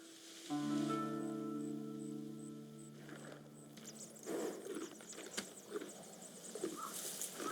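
Nobu, a horse in Ghost of Tsushima, trots after a sustained held tone fades, with scattered, soft hoof clops and light rustling at moderate distance, no voices.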